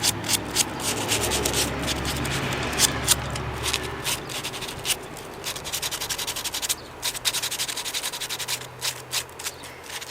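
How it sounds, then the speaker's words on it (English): A wood carving gets hand-sanded up close, with rapid, rhythmic scratchy rubbing strokes continuing steadily throughout, no talking. "you might want to sand it a little."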